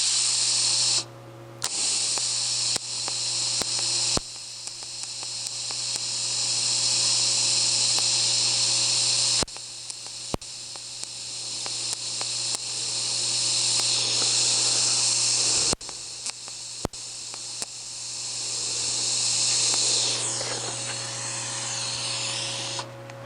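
TIG welder tacking scrap aluminum: a steady close electric hiss and buzz with a low hum, broken by several short gaps as the arc is pulsed on and off for each tack.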